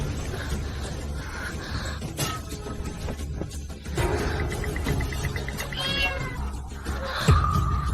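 A cat meows several times in a short run, close and fairly loud, over a steady low rumble of background noise, with a higher drawn-out cry near the end.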